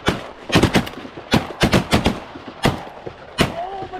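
Shotgun blasts fired while duck hunting, about a dozen loud sharp shots in quick irregular bursts at close range, with faint voices between them.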